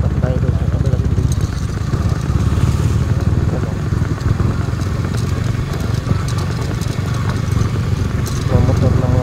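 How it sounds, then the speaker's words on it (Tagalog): Workers' motorcycles on a banana plantation in Davao del Sur, engines running steadily and fairly loud throughout, with voices talking over the droning motors. "Mga motor ng mga trabahan."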